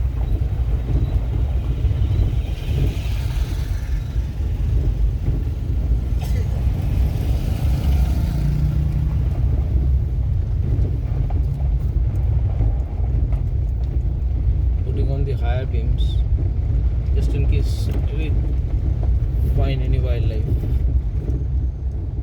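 A car drives along a rough, bumpy road through Chapramari Forest, its engine and road rumble loud and steady throughout, with wind buffeting and people talking over it.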